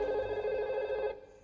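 A telephone rings in a steady, fairly close tone for about a second before cutting off, in a Hindi comedy film scene with no talk over it.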